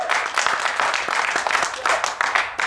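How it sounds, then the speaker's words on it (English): Dense studio audience applause on a TV comedy news show fills the whole stretch, steady claps from a sizable audience, loud and close. "Ladies and gentlemen, a round of applause."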